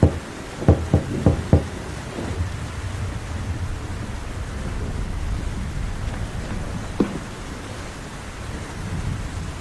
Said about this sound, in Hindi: बल्लू घोंसले का दरवाजा खटखटाता है।